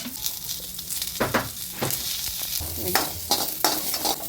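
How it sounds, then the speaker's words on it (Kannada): Chopped onions fry in oil in a pan for a North Karnataka brinjal dish, a close crackling sizzle with several sharp stirring scrapes and clatters spread across the few seconds, no voices. "ಉಳ್ಳಾಗಡ್ಡಿಗೂ ಎಣ್ಣೆ ಹಾಕಿ ಅದನ್ನು ಹುರ್ಕೋಬೇಕು"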